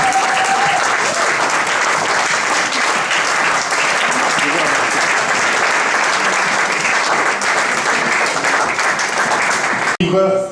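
A church congregation applauding to welcome a preacher, loud continuous clapping and cheering filling the room throughout, with brief voices mixed in and an abrupt cutoff near the end.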